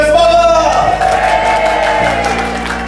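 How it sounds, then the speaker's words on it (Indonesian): A live audience at an Islamic training seminar breaks into enthusiastic applause and cheering, loud and sustained from start to finish, with a steady musical tone running underneath. "Tepuk tangan yang semangat!"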